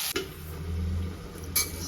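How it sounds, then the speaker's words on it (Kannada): A spoon stirs salt into a cooking pot, giving a soft scraping swirl with a couple of sharp metal clinks against the pot rim, faint and close, with no talking. "ಇದಕ್ಕೊಂಚೂರು ಉಪ್ಪು ಹಾಕ್ಕೊಂಡು ಮಿಕ್ಸ್ ಮಾಡ್ಕೊಳ್ಳೋಣ"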